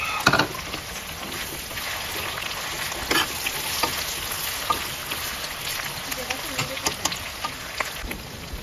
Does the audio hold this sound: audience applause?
no